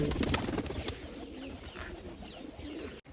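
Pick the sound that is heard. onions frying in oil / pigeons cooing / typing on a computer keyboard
pigeons cooing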